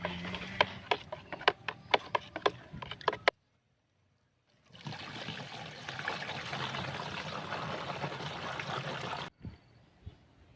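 A liquid boron nutrient mixture for chili plants is stirred up close: a run of sharp knocks gives way, after a brief pause, to a steady swishing, sloshing churn that cuts off abruptly. No one speaks.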